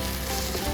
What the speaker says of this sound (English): So I'm going to try and flip this in one go.